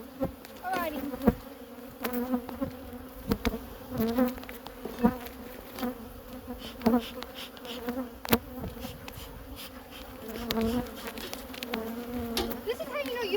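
Honey bees swarming in the air around a hive being split, a dense continuous buzzing drone close by with individual bees whizzing past, and faint voices now and then.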